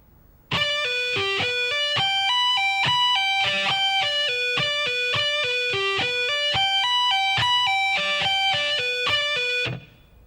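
A distorted electric guitar plays a lick of quick, bright single notes with pull-offs at a slow, even pace, ending abruptly after about nine seconds.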